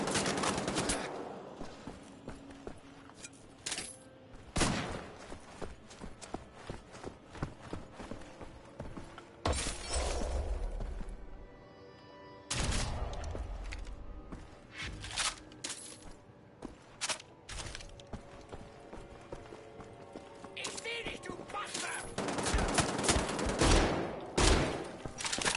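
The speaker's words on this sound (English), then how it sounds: "So they had the automatic shotguns back when this game takes place" Automatic shotgun fire in the video game Wolfenstein: The Old Blood, a series of sharp, loud blasts in bursts with short gaps between volleys.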